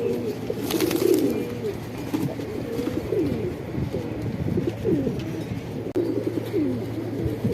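Several pigeons coo continuously in a low, warbling chorus, close by and overlapping, with a few faint chirps mixed in and no talking.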